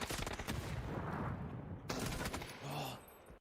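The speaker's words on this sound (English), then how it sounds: "able to get the returning fire onto Zest." Dense bursts of gunfire in the battle royale game PUBG during a close-quarters esports fight, sustained rapid shots with a brief break before a second volley, loud and continuous with no talking.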